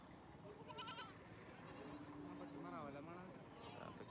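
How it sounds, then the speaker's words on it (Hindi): Goats bleating at a busy livestock market during the Eid sacrifice season in Swabi, Khyber Pakhtunkhwa, with a few wavering cries rising over a constant crowd murmur and nearby talk. "ये एक बकरी मैं लेकर आया हूँ।"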